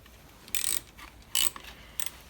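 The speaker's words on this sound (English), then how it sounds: "Now undoing the 3 bolts holding on the backing plate." A ratchet working on bolts of the ignition backing plate on a 1968 Wheelhorse Raider 9 garden tractor: three short, bright bursts of rapid clicking, close and clear against a quiet background.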